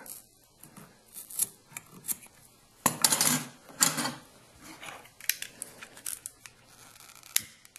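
Scissors snipping through paracord while making a two-color bracelet: close, crisp metallic snips and rustling of cord in irregular bursts, with a louder cluster of cuts in the middle, and no talk.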